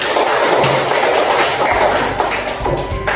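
A classroom of children bursts into loud, continuous applause, dense overlapping hand claps sustained close by for a few seconds.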